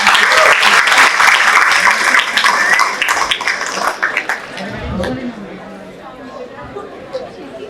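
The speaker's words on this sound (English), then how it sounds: "A huge round of applause." Audience applause at an institutional induction programme as a memento is presented, dense clapping that is loud at first and then thins and fades, with crowd chatter and voices mixed in.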